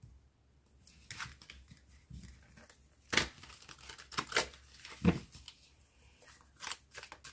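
Tarot cards drawn and handled for a reading: scattered papery crinkles and flicks at close range, with a few sharper snaps of card against card and quiet rustling between them, no voices.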